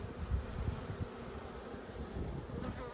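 Honey bees buzz steadily around an open hive as it is shut down for winter, a dense low drone with rising and falling swells throughout and no voices over it.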